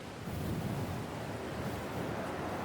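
Steady roaring wind mixed with the wash of surf by a lighthouse in the video game Dear Esther, a continuous broad rush at moderate volume with no voices.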